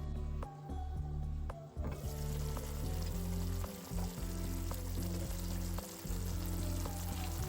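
Spicy fish gravy sizzles and fries steadily in a covered pan on low heat, with a constant close crackle and a few soft clinks at the start.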